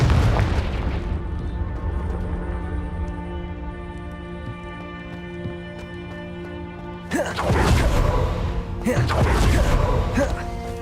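Confringo fire spell from Hogwarts Legacy detonates in two heavy booming blasts, the second following closely after the first, over a low rumbling game backdrop.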